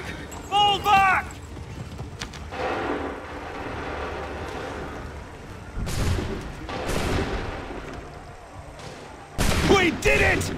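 A musket volley crackles in Assassin's Creed III, broad bursts of gunfire with booming blasts and rumbling battle noise, mixed with shouted commands and horse hooves.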